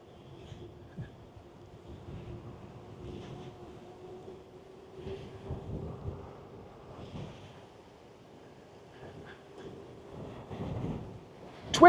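Wind rushing past on a downhill eBike ride on an ADO AIR Carbon, a low steady roar with gusting surges and a faint hum running throughout, ending in a sharp louder blast.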